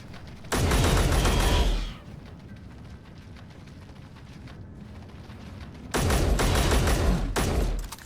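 Bursts of rapid automatic gunfire in Space Engineers, a loud volley of about a second and a half, a quieter stretch of game noise, then a second loud volley near the end, aimed at swarming bugs.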